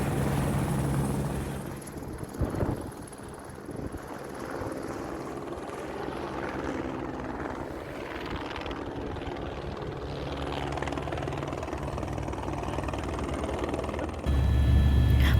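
A tour helicopter flying between the Everest region and Kathmandu, Nepal, fills the scene with steady rotor thump and engine roar continuously, loud and close, with no voices.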